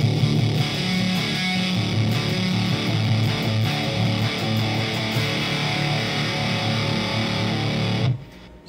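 Electric guitar played through a Meat Grinder fuzz pedal with its tone knob being swept: a thick, heavily distorted sustained fuzz roar with a buzzy low end holds for about eight seconds, then cuts out.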